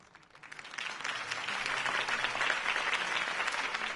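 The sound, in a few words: crowd applause after a campaign speech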